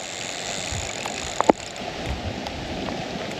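Steady rain falls at a carp-fishing spot on wild water, a dense even hiss of drops throughout, broken by a couple of brief sharp knocks near the middle.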